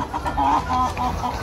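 Peru Gold chickens clucking in a poultry yard, a steady run of short, close clucks and murmurs with a few brief rising calls, fairly loud and with no talk over it.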